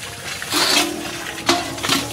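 Water runs from a household tap in bursts, a rushing splash that swells, briefly cuts out and returns, close and fairly loud, with no talk.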